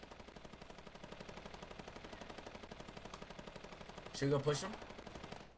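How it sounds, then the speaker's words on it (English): Rapid LMG machine gun fire in a Fortnite match, a steady stream of fast, even shots running throughout, with a brief louder burst near the end and a voice speaking over the gunfire. "there's somebody with a minigun. Oh, that's an LMG."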